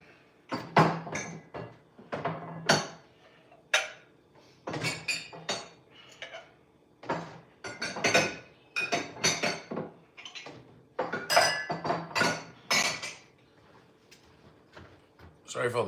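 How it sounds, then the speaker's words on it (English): Dishes, pots and pans clink and clatter repeatedly while being put away in a home kitchen, with irregular bursts of ceramic and metal knocks and people talking throughout. "We're putting some dishes away"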